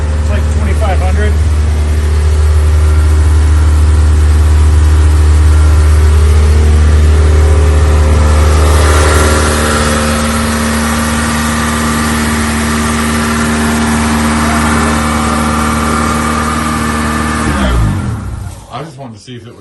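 A Mitsubishi Mirage with a 4G92 engine runs steadily at a raised idle of about 2,500 RPM, a loud continuous drone close by that eases slightly midway and fades out at the end.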